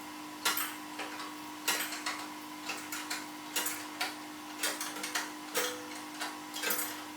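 Ratchet clicking in repeated short bursts while loosening the 24mm lower control arm bolts on a 2018 Toyota Tundra during a lift kit install, close and fairly crisp over a steady hum.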